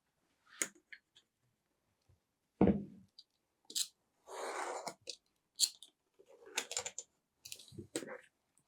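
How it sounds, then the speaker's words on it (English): Leather scrap being cut by hand for a leather box, heard as a series of short crunchy snips and slices spread across several seconds, close and fairly quiet, with no talking. "I want it nice and even, so I'll cut this one also"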